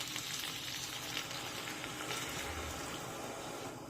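Water goes into a hot pan of tempered dal and ridge gourd, setting off a continuous loud sizzling hiss that stays steady and close for the whole moment, with no talk.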